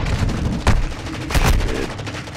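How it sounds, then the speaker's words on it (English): Loud, continuous gunfire in Call of Duty: Modern Warfare II, a dense rattle of shots with two heavier bursts standing out, close and dominating throughout. "Still getting shot at over here by me."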